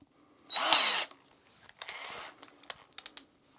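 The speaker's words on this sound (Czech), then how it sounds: "Tak zkusíme si něco zašroubovat." A Parkside PABS 20-Li E6 cordless drill driver with a 2 Ah battery and a bit fitted drives a screw: one short, loud motor whir, then a scatter of clicks and handling clatter close by.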